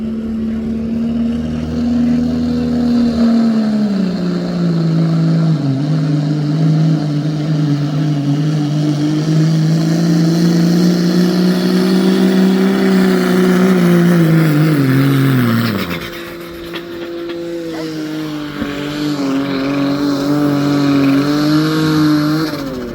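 A pulling truck named Non-Profit at the Fulton County Fair truck and tractor pull roars at full throttle, its pitch climbing and wavering for a long run, then briefly drops before it surges again, loud and sustained.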